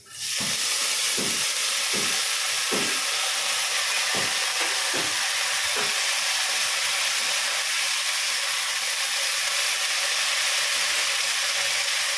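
Water spinach hits hot oil in a wok and erupts into a loud, continuous, steamy hiss that stays even and close, with a few sharp scraping clatters early on.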